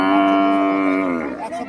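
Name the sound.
Nepali breed cow mooing at a cattle market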